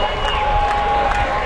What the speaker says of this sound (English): The crowd responds to the score by Canada